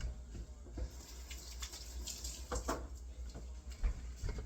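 Running tap water pours steadily at a kitchen sink as hands are wet before stretching and folding jalapeño cheddar sourdough, with a few splashes and soft knocks over the flow.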